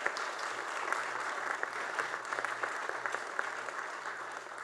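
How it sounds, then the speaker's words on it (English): Round of applause from a conference audience at a cyber-security event in Vancouver, with many hands clapping in a steady, fairly soft patter that fills the room and carries no speech on top. "Please join me once more in giving them a round of applause"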